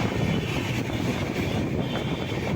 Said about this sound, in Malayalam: നല്ല സ്പീഡിൽ പോകുന്നുണ്ട് ട്രെയിൻ